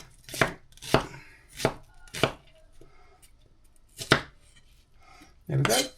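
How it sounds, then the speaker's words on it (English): An onion, root still attached, being chopped with a knife on a board: about six crisp separate cuts at an uneven pace, close and clear with quiet pauses between, ending in a longer slicing stroke. "slice it into this. Remember, we've got the root of the onion still on there"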